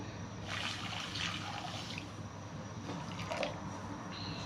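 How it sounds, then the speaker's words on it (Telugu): Milk pours into a cooking pan in a soft, continuous trickle, faint and close, with brief splashy swirls and no talking. "ఇప్పుడు పాలు వేసేసుకుందాము"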